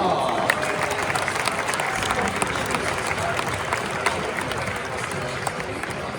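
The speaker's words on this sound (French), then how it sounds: "Je vous demande d'applaudir Fouba." Stadium crowd at an FC Lorient centenary football match applauding as players and e-sport champions are introduced, a broad dense wash of clapping and some cheering that continues evenly throughout, with a voice talking over the stadium sound.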